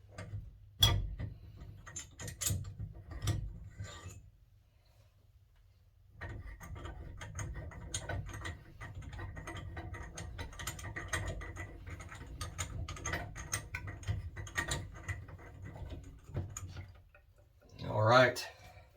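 A shower valve stem in a three-handle shower, being unscrewed with a small stick-style handle tool through its holes, gives a series of ratcheting clicks and mechanical ticks at close range, with short pauses between bursts of turning.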